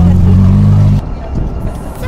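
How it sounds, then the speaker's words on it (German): A Lamborghini replica driven through Rome: a loud, steady engine drone with strong low harmonics cuts off abruptly, leaving lower road and cabin noise with voices talking. "Lamborghini fahren macht Spaß."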